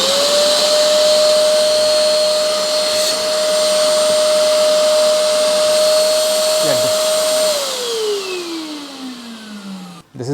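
A Eureka Forbes Trendy Zip vacuum cleaner runs loud and close with a steady motor whine, then winds down in falling pitch as it switches off near the end.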